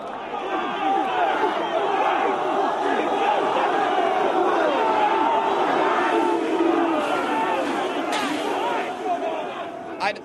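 A large, uncontrollable crowd of English Defence League supporters shouts and chants in a dense, continuous roar, loud and close throughout, with overlapping voices and occasional sharper cries.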